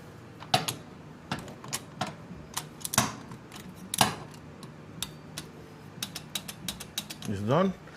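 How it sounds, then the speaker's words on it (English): Scattered close metallic clicks and taps from a 17 mm wrench working during an oil change on an Africa Twin motorcycle, irregular single ticks and short bursts, ending with a brief whirring sweep. "we're going to use a 17 wrench,"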